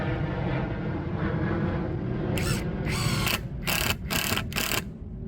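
A DCA ADPL03-14 cordless brushless impact driver drives a 2-inch screw, its motor whirring steadily before several sharp, rapid bursts of impact hammering, close and loud.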